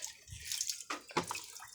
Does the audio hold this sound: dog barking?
no